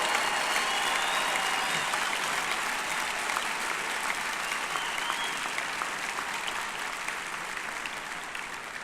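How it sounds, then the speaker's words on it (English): A large commencement crowd at Western Michigan University in April 2017 applauds graduating students, a broad, continuous wash of clapping that fades gradually over several seconds. "how about another nice round of applause for all of these very talented young men"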